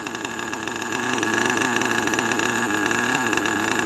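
A carbureted truck engine with a three-needle carb idles at close range, a steady, even rumble that swells slightly after the first second and holds a smooth, continuous beat with no talk over it.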